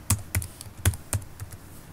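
Keys on a computer keyboard are struck in a short run of distinct, fairly close taps, about six clicks spaced unevenly across a couple of seconds with no talking.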